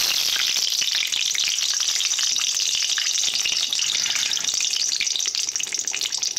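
Black cumin seeds and whole tomatoes hitting hot oil in a wok, giving a steady, loud, dense sizzle with crackling throughout, close up and with no voices.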